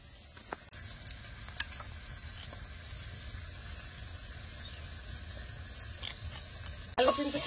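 Potatoes fry with salt, turmeric and chili powder, making a soft continuous sizzle with a few faint clinks and a louder burst near the end.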